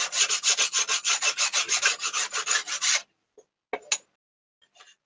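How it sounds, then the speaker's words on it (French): A hand file rasps back and forth across an object in about twenty rapid, even strokes, loud and close, then stops, followed by a few faint handling clicks. "Je baisse un peu l'appareil pour permettre que vous voyez comment je lime."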